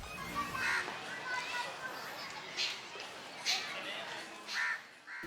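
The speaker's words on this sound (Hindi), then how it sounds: "पक्षियों के चहचहाने की आवाजें भी लगातार आ रही है" Outdoor ambience in Japanese Park in Rohini, Delhi, with crows cawing and birds calling repeatedly in the near to middle distance, mixed with the chatter of children and people talking in the background.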